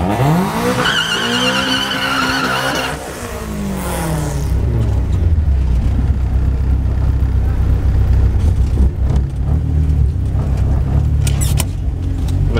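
Drag racing at Killarney, with a MK2 Golf GTI 16v on individual throttle bodies launching against a green Honda with a B20 VTEC. Engines rev up loud and close, then tires squeal and skid under a sustained roar.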